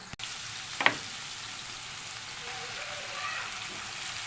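A spoonful of garlic and chopped peppers fries in a pan, giving a steady soft sizzle after a sharp clink at the start, with a brief stir partway through.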